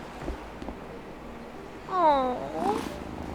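A cat in the farming life-sim game Wylde Flowers gives a short, fairly close vocal call with a rising then falling tone, standing out above a quiet game ambience.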